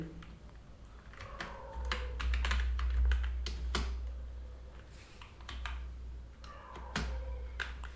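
Typing on a computer keyboard while building a MySQL table, steady clusters of crisp key clicks and taps over a low hum, close and moderately loud, with no talk over it.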